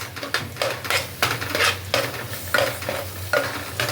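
Two chopped onions fry in butter for pav bhaji, a close sizzle under rhythmic metal scraping and clinking as a spoon stirs them around the pan.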